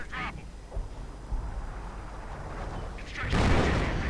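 Artillery fire in a strategy video game: several muffled booms and blasts, with a louder explosive roar near the end, mixed with a voice talking over the action.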